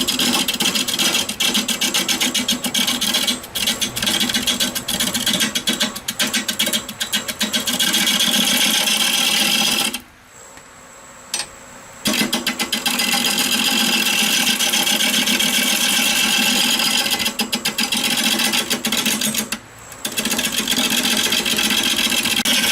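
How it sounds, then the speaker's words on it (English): A wood lathe spins at 450 RPM while a freshly sharpened roughing gouge cuts a mesquite burl bowl, giving a loud, continuous, rough cutting roar. The roar drops out for about two seconds midway and briefly again near the end. "I'm spinning at 450 RPMs. I went ahead and sharpened my roughing gouge"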